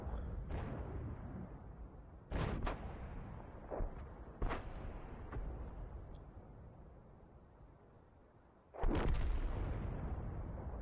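Artillery in the tank battle game World of Tanks fires repeatedly, several booming blasts spread across the stretch with long decaying rumbles between, the last one loud and close.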